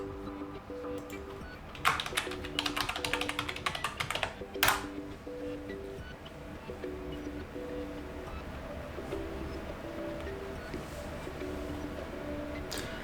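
Password being typed on an Acer Predator 17 laptop keyboard: quick runs of light key taps close by, a sharper keystroke near the middle, then quieter sparse clicks over faint background hum.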